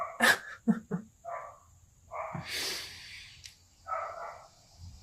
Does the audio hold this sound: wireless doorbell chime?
no